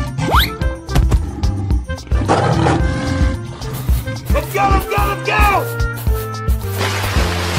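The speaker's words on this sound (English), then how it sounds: "Lion." A lion roars in a 3D animal slide-game animation, a rough, strained call set against steady, busy background music with clattering effects.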